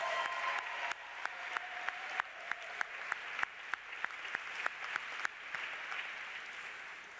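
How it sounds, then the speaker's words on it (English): Sustained applause from a large audience at an annual benefit gala for a nonprofit, honoring the staff; dense steady clapping with sharp individual claps standing out, no talk over it. "Can I also get a big round of applause for the wonderful staff who work so hard to build this infrastructure"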